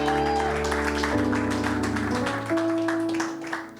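A church congregation applauding to acclaim Jesus, steady clapping that runs throughout beneath loud sustained organ or keyboard chords.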